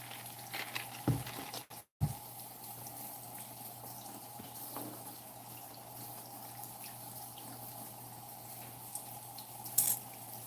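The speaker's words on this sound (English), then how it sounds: "Getting ready to wash dishes. That's water you're hearing." Tap water runs steadily in a home kitchen sink as dishes are about to be washed, a continuous moderate hiss broken by a brief clunk near the start and a small clink near the end.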